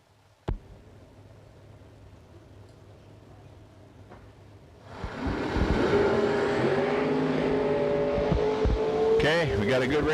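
Drag racing cars launch side by side down the strip at an ACE Triple 20K event, with a quiet lead-in before the engines erupt into a loud, sustained roar as a voice talks over the track noise.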